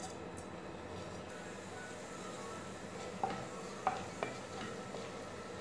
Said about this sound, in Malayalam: എണ്ണ ചൂടായി വരുമ്പോൾ അതിലേക്ക് എടുത്ത് വെച്ചിട്ടുള്ള ജീരകം ചേർത്ത് കൊടുക്കുക.